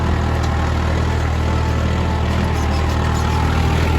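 A tractor engine running at around 1550 to 1600 rpm while pulling an 11-tine Matris Flora cultivator, a loud steady low drone with constant rumble and no variation or talk.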